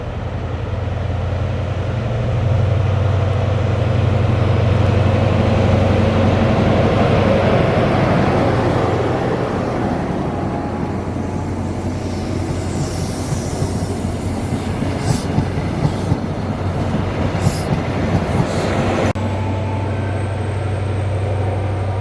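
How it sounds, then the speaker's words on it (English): A Glasgow train pulling away from Newtonmore station in severe weather rumbles loudly and steadily, then rolls away with clickety-clack wheel noise and a few sharp squeals, heard without any talking. "Glasgow train just pulling away from Newtonmore station"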